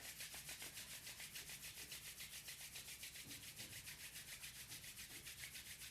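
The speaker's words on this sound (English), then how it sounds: "We'll rub the hands together." Hands rubbing briskly together during a gentle yoga warm-up, a soft, close swishing friction in a fast, steady back-and-forth rhythm that continues throughout, quiet and without speech.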